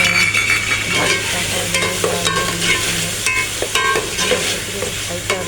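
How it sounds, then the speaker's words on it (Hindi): Ginger and garlic fry in a pan, giving a steady close sizzle with frequent scraping and clinking from stirring, and no voices over it. "वगैरह फ्राई कर लेती हूँ। फ्राई कर रही हूँ।"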